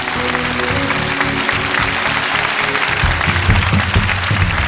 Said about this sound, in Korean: 세 분에게 큰 박수 주시고요